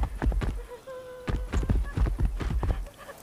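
Horse hooves clip-clop in a video game, a quick run of uneven thuds over steady rumbling game ambience with a brief tonal whine and no talking.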